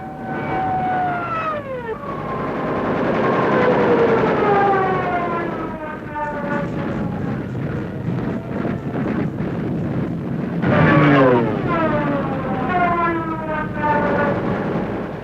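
Soviet WWII attack planes roar over the roads to Berlin in archive war footage: a continuous engine drone with whining tones that rise and fall as the aircraft pass, over steady wind-like noise.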